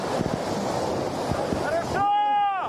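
Foaming river rapids and waves rush in a steady, loud wash of water with wind buffeting the microphone, cut off near the end by a short tonal sound.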